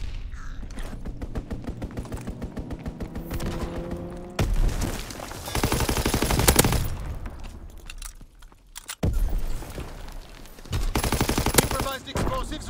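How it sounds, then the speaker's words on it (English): Fighter plane strafing with machine guns in a WWII video game: dense, continuous rapid-fire gunfire across the whole stretch, loud and close, with heavy booming bursts and mechanical clatter layered in, and game voices underneath. "Fighter pilot inbound, strafing the target."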